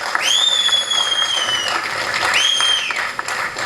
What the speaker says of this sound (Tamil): அங்கே கனிஷ்காவுடைய நண்பர்கள் தனியாக அவனுக்கு வந்து ஹோல்டர் பண்ணி கைத்தட்டிக்கிட்டே இருக்காங்க